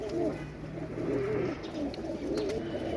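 Pigeons coo in soft, low, repeated phrases, three rounded calls over a steady faint background.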